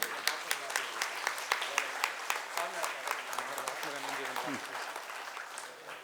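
Audience applause follows a devotional stage play at a Navaratri festival, a sustained wave of many hands clapping with sharp individual claps standing out, while a voice speaks over it.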